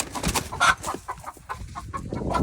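Hens clucking close by in a coop, a run of short overlapping clucks with some rustling, moderately loud and alone.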